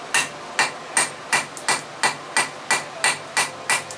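A hammer forges metal on an anvil, rounding off the edges before a forge weld, in about eleven evenly spaced, sharp ringing strikes, close and loud, with no talking.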